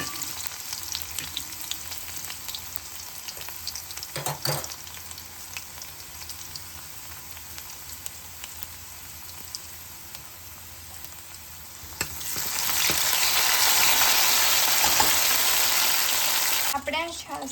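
Curry leaves and garlic cloves hit hot oil with chillies and cumin for a tempering, giving a continuous sizzle that swells into a loud, bright crackle near the end.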